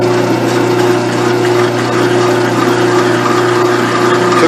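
Steady loud machining drone of a lathe or boring setup cutting a hole in a band saw gearbox housing during a repair, a continuous hum with constant tonal whine and no pauses.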